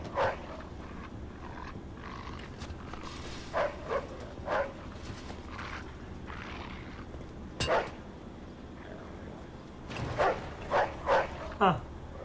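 A dog in the video game Mafia 2 barks in scattered single yaps and short bursts, fairly faint behind game ambience and a player talking throughout.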